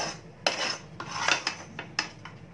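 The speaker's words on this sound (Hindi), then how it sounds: "मैं इसे एक अलग बोल में ट्रांसफर कर रही हूँ" A pea and coconut mixture for Diwali sweets scraped from a wok into a separate bowl, a few sharp metallic clinks and scrapes of a spoon against the pan, close and fairly quiet.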